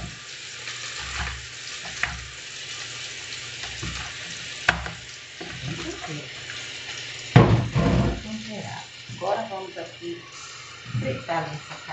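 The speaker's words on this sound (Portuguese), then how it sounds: "Fritar essa carne." Pork loin frying in a pan, a soft sizzle punctuated by clinks of stirring and handling, with a person speaking Portuguese over it.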